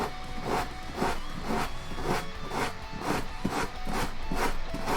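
Hand rubbing contact adhesive off a clay pot refrigerator surface, a steady back-and-forth scrubbing with about nine regular strokes, close and fairly loud throughout.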